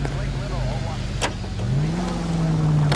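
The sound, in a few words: car in LA Noire video game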